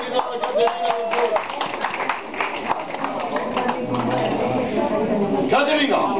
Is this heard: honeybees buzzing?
no